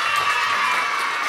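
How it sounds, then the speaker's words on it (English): A short burst of audience applause and cheering greets a guest on a children's show, a dense, steady wash of clapping and crowd noise with no pauses. "Let's have a big round of applause for Nichelle Nicole!"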